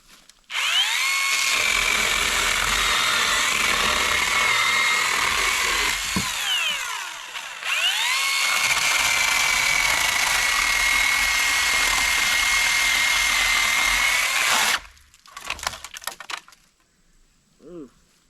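A cordless 16-inch electric chainsaw cuts through knotty wood, its motor whining loud and steady for several seconds, dipping briefly as the cut loads, then surging again before stopping, followed by light rattling.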